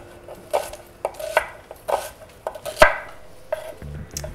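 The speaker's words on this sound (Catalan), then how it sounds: "Tenim l'oli, anem tallant la ceba." Knife chops through onion on a cutting board in a home cooking setting, with about six to eight sharp, irregularly spaced strikes, close and clear, no talking over them.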